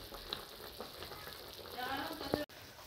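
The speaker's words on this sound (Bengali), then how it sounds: "এইখানে কড়াইয়ে টক রান্না হচ্ছে, মাছের টক তেঁতুল দিয়ে" Fish sour curry with tamarind sizzles and bubbles in a wok, a soft steady frying crackle with scattered pops and a brief stirring clatter near the end.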